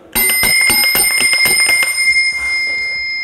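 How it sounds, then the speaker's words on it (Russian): Small bells on a Saratov accordion ring in a quick series of bright, sustained strikes, about eight rhythmic jingles followed by a lingering shimmering decay, close and clear with no voices. "саратовская гармоника отличается от других наличием колокольчиков"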